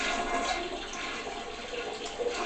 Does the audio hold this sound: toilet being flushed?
yes